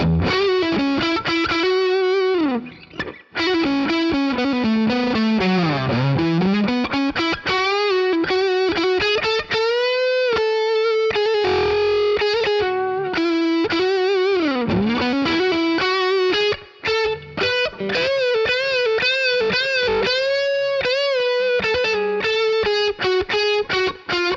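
Electric guitar lead tone through a NUX amp modeler, played as a sustained, heavily distorted melody with bends and slides, loud and close, with no talking over it.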